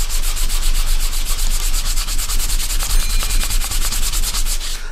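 Steady back-and-forth brushing strokes on leather, a rapid rhythmic rubbing that continues evenly throughout, close and fairly loud.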